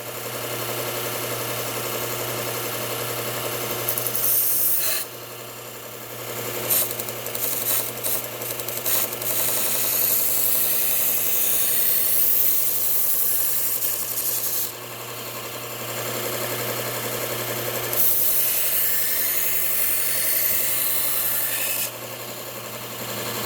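A knife sharpening machine grinds badly chipped kitchen knives against an abrasive with angle guides set to 15 degrees, a steady close rasping whine over a low motor hum, with brief gaps and changes in pitch as the blade shifts.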